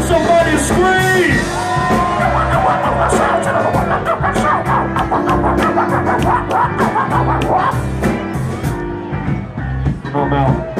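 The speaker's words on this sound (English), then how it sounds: "Now somebody scream!" A concert crowd shouts, yells and whoops loudly at a rock band's gig in a bar, the cheering continuous and mixed with music and an amplified voice.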